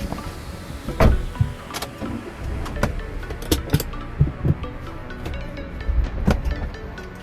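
A Maruti Alto stalling as the clutch is released, heard from inside the car as a series of knocks, clunks and rattles with short engine shudders over several seconds, with no talk.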